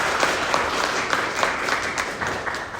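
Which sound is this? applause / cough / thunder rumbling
applause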